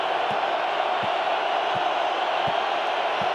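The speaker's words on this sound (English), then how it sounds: "you can hear the crowd getting ramped up right now" Seattle Seahawks stadium crowd at a 2005 NFC Divisional playoff game against the Redskins roars as a steady, dense wash of noise with faint rhythmic low thumps, heard from a distance throughout.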